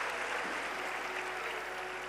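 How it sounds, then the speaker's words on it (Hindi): A crowd claps in welcome at a Shiv Mahapuran religious discourse gathering in Sehore, a dense, even wash of applause that holds steady from start to finish, moderately loud with no voices over it. "जरा तालियां बजाकर सब अभिनंदन करें।"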